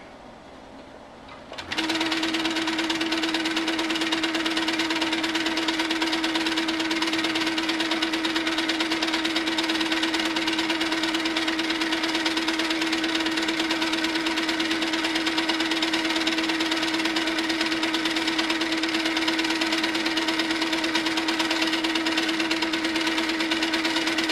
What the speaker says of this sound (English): And now I'm going to do free motion quilting back down.